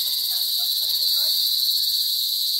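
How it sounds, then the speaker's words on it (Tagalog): Loud, unbroken cricket chirping fills the air as a high shimmering drone, with faint indistinct sounds underneath. "Ang ingay ng kuliglig oh"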